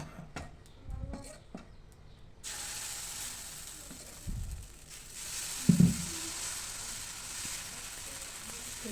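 Dosa batter sizzling on a hot pan rubbed with onion, a steady soft hiss that begins partway through after a few clinks and scrapes, with faint voices under it.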